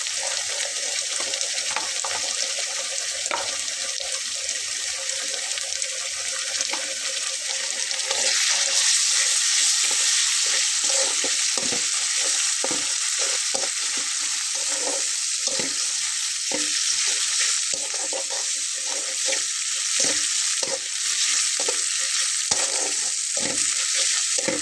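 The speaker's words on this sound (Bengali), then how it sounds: "মশলাটাকে 5 মিনিটের মতো কষিয়ে নেব বন্ধুরা।" Garlic and ginger paste masala frying and being stirred in a pan for a broiler chicken curry, with a steady loud sizzle and frequent scraping stir strokes throughout, no talk.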